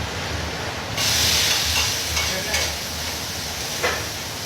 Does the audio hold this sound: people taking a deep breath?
no